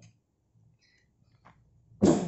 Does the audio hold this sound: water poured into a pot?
no